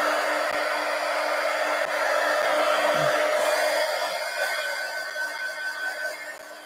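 A hair dryer blows steadily on an ink journal, a loud, even whirring roar with a few soft taps of handling, gradually fading slightly toward the end.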